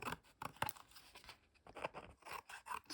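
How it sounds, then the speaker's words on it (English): Paper edges being trimmed clean, close and quiet, with care taken not to cut into the substrate beneath; short scraping snips and rasps come in irregular bursts. "Then I will hurry up and cut my edges clean, and take care not to cut in the"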